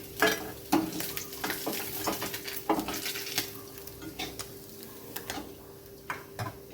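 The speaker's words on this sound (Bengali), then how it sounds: "মাছগুলো লাল লাল করে ভাজা হয়ে গেছে, এগুলো আমি একটা পাত্রে তুলে নিচ্ছি।" Amudi fish fry in hot oil in a pan, a steady hiss and crackle, broken by clinks and scrapes as the browned pieces are lifted out.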